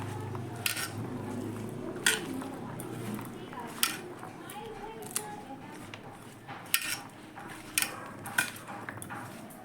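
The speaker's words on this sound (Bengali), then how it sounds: "মরিচের গুঁড়ো, ধনিয়া পাতা, সরষের তেল, তেঁতুল একলগে দিয়ে ভালো করে মেখে নেব।" Cucumber being mixed by hand in a bowl with chilli powder, coriander leaves, mustard oil, tamarind and black salt, a series of soft clinks and squishy knocks in an uneven rhythm, close and fairly quiet.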